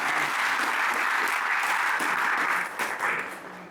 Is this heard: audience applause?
yes